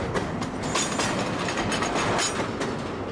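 A CSX freight locomotive notches up its throttle and accelerates, a loud, close, continuous rumble with rail clatter running throughout.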